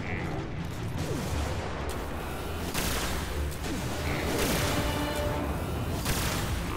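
An enemy robot fires on the player during a PS4 Destiny battle, dense rapid gunfire and mechanical blasts rattling steadily over a loud, busy game soundscape.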